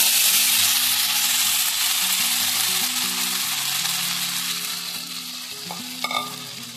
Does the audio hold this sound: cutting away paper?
no